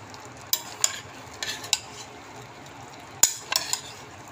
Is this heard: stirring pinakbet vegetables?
yes